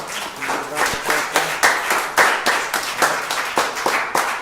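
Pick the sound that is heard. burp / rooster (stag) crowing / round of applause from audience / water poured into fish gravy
round of applause from audience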